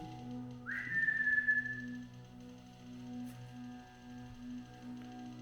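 A single brief whistle during a paranormal investigation, rising quickly to a clear steady note that fades out after about a second, over a constant low electrical hum with no talking.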